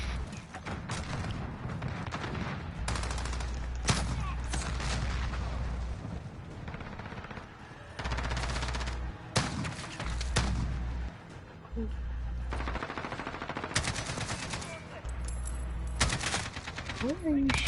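Gunfire in the Modern Warfare video game crackles in repeated bursts and single shots with heavy low thumps, loud and close, while a player talks between the volleys.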